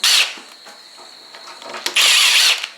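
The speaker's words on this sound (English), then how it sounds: "No tools required, just the cordless drill is all we're going to use." A cordless drill whirs in two loud bursts at close range, backing screws out of a door handle, with small clicks and handling noises in the quiet gap between bursts.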